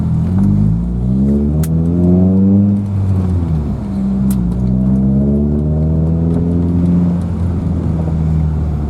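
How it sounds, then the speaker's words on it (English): A car with a ported intake pulls away on a test drive, its engine revving up through the gears in loud, continuous rising sweeps, close and steady throughout. "let's take this car out for a test drive"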